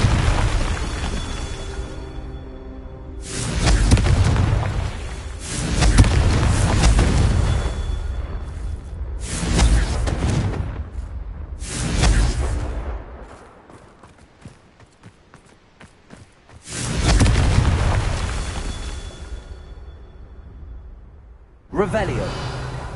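Confringo fire-spell blasts from the video game Hogwarts Legacy go off as several loud, deep booming explosions spaced several seconds apart, each swelling and fading, mixed with game effects and a voice speaking.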